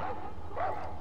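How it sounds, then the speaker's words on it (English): A dog in the video game Far Cry 4 lets out a quick, muffled bark or yelp, a single brief burst over a low background rumble. "dog's going crazy"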